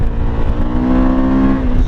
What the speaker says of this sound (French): la sonorité avec le pot d'échappement d'origine